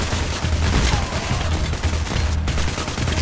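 Sniper gunfire in the video game Payday The Heist, heard as dense, loud bursts of overlapping shots that continue through the whole moment with little pause.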